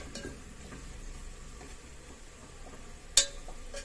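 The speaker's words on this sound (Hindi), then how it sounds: "गैस तेज करके इसे भूनेंगे।" Chole masala is stir-fried on a high flame, a faint low sizzle with soft stirring scrapes and one sharp clink of utensil against pan near the end.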